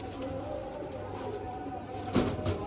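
A pair of pigeons, male and female, coo softly over low background noise, with a brief louder burst near the end that may be wings or movement.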